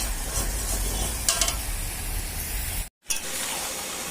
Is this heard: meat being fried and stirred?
yes